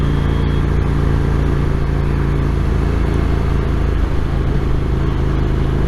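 A Ducati Supersport S motorcycle fitted with Evotech Performance crash sliders rides off, its medium engine droning steadily and loud with a constant low hum throughout, no voices.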